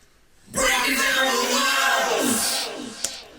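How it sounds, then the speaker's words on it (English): Layered gang vocals from a band recording, several shouted takes stacked with pitch shift and panning, entering abruptly and holding loud and dense for about two seconds before fading out, with a short sharp hit near the end. "But there's some gang vocals which sound like this."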